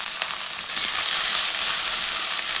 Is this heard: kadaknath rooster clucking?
no